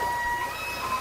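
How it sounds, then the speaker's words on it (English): A sustained high, thin tone with a slight waver, steady for about a second over faint background noise, like part of an elk bugle. "Elk bugle, I think, is the coolest sound in the world."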